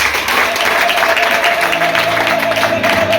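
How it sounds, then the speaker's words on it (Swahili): A church congregation breaks into applause, a dense burst of clapping from a crowd of about seventy people indoors, steady and fairly loud for a few seconds. "Niombe makofi kwa Bwana Yesu."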